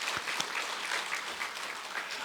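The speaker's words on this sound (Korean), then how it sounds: "우리 격려와 감사의 박수 한번 부탁드립니다" A church congregation claps in thanks during a Sunday service, a steady wash of hand claps filling the room at moderate level for a couple of seconds with no talking over it.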